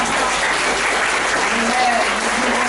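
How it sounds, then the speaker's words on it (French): Sustained crowd applause at a Sunday evangelical church service, dense and steady throughout, with a faint voice mixed in under the clapping. "On va applaudir le Seigneur."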